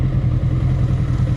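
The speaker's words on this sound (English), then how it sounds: "That bike is so nice." A 1970s superbike engine gives a steady, loud, low rumble with a rough, pulsing texture, heard close and alone with no talk.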